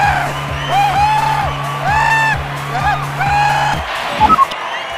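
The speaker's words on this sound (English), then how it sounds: "You can hear Loose Wheel and his crew screaming for joy" Loose Wheel and his crew scream, whoop and cheer for joy after winning the overall Marble Circuit championship, several excited voices yelling together over a steady low hum, with a few sharp bursts near the end.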